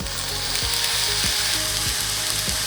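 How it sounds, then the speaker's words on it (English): Soy sauce hits sizzling chicken fried rice in a hot pan, giving a steady, loud frying hiss with a few rhythmic scraping or stirring knocks underneath. No talking. "Now I'm gonna add the soya sauce,"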